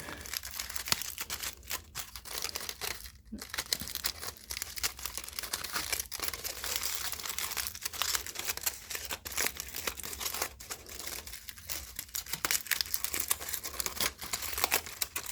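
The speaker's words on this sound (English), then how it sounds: "maybe don't scrunch quite as much as I did" Card stock or paper being scrunched and crumpled by hand while making a handmade Father's Day card: a steady, close crinkling and rustling that runs through the whole stretch with brief pauses.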